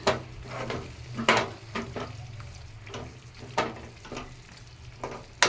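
Drumstick pieces frying in hot oil in a pan for an Andhra-style egg, drumstick and tomato curry, giving a steady close sizzle with repeated clinks and scrapes as they are moved around, no voices.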